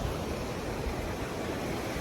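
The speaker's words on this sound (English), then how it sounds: "the tide's kind of in, the waves crashing about" Ocean waves surge and crash inside a small sea cave at high tide, a steady, loud wash of surf filling the space without pause and with no voices.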